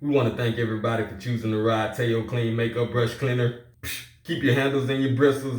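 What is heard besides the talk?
None of the usual background noises is heard.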